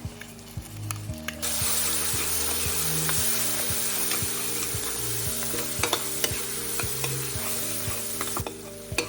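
Spice blend masala frying in hot oil on a very low flame in a pan for a shahi chicken curry, a continuous close sizzle with light scraping clicks and a low steady hum underneath.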